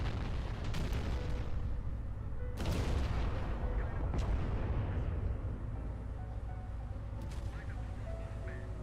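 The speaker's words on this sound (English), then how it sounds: "We're firing AP now." Warship guns in the naval video game Battleship Command firing armour-piercing shells: heavy booming broadside blasts, one big report near the start and another mid-clip, over a constant low rumble with faint voice underneath.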